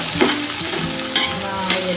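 Ginger and green chillies for a beef pickle being sautéed in a pan, a dense, continuous sizzle with occasional stirring scrapes, loud and close, no voices.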